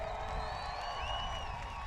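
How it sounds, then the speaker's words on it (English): A large crowd at a New Smyrna Beach family fun night event cheers and claps for a high school group, a steady wash of whoops and applause with no clear gaps. "Let's have a big round of applause for the New Smyrna Beach High School."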